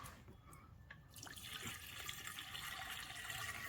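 Water pours steadily into the coolant reservoir of a BMW 530e with a B48 petrol engine and a coolant leak, a broad continuous trickle that builds after a quieter first second, close and alone.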